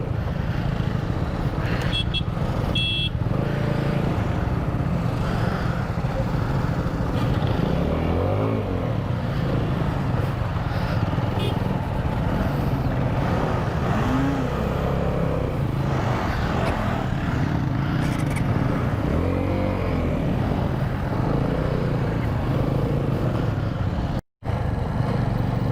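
A TVS motorcycle on an overnight group ride in Rajasthan is ridden and turned around on the road, its engine droning steadily and revving with passing traffic, occasional horn toots, wind buffeting throughout.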